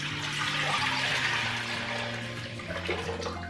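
Eight cups of water pour steadily into a pot for brine, a continuous close rushing splash with no talking.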